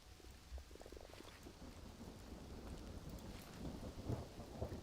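Steady rain hisses throughout a video game scene, with low thunder rumbling underneath and swelling slightly toward the end; no voices.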